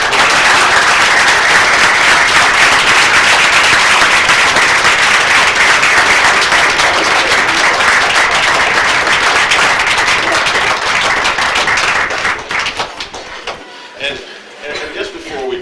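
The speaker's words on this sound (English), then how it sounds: "again, a round of applause for you." A crowd at a city commission meeting applauds steadily and loudly for about twelve seconds before the clapping tapers and breaks apart near the end.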